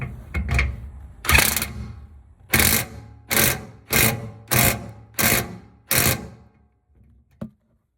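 Bolts on the diesel fuel tank of a 1993 Bounder RV are run tight with a power tool, giving a series of about seven loud, close, evenly spaced rattling bursts, followed by a single short clack.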